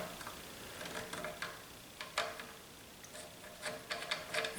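A detent pin on an AK-47 muzzle brake, held down with a box cutter on an M70 ZPAP, gives a series of small, sharp metallic clicks and ticks while the brake is unthreaded by hand. The clicks are close, quiet and irregular, with no talking.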